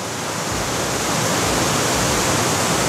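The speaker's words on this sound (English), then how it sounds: "reveal the waterfall" A waterfall on a river roars in a broad, dense rush of falling water, loud and constant, swelling a little after the first second with no voices over it.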